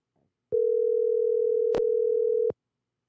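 An unanswered telephone call, with one steady two-second ringback tone that sounds clear and close against silence.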